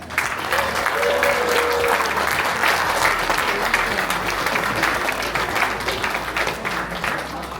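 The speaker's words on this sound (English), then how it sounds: "Why don't we clap our hands one more time for the new Canadian?" A crowd at a Canadian citizenship ceremony applauds continuously, a dense wash of clapping hands at steady strength that carries on throughout before tapering slightly.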